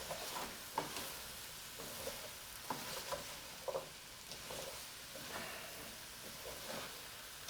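Potatoes, beets, tomatoes and carrots being stirred in an oil-free vegan borscht pot, with soft scraping and wet shuffling strokes recurring irregularly, moderately close and fairly quiet with no talk.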